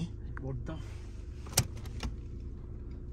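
A vehicle stalling on a high mountain pass in Ladakh: a low, steady engine rumble with a sharp click near the middle, while faint voices talk in the background.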